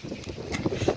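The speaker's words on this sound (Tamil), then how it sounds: "காத்து என்ன மாட்டிக்குதுல." Wind blowing outdoors in a home garden, a rough gusting rumble buffeting the microphone at close range, with no talk over it.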